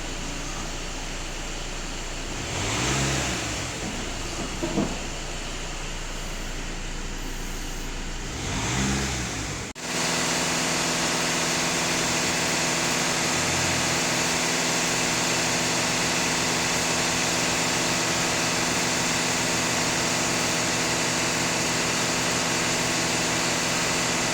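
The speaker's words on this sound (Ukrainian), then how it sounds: "Автомобіль сам газує" An Audi A4 engine, diagnosed with an EGR fault code P2002, revs up twice on its own in swelling bursts, then settles into a steady, loud idle with a constant hum, and nobody speaks.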